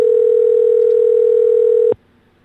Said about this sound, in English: We're going to hear a ringtone.